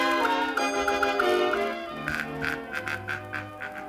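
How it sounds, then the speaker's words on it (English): Cartoon bird honking in a 1949 animated short, a run of repeated nasal honks in quick rhythm over an orchestral music bed, followed by lower bell-like tones. "He's sure the honkin'est bird I ever did see."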